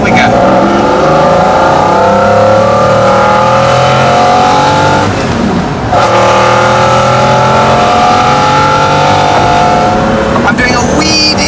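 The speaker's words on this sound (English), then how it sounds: "We're going to start off in second because there is so much torque available, and here we go." A McLaren F1 pulls away in second gear and accelerates hard, its engine note climbing steadily through the revs. It is loud and close, and briefly dips around one gear change.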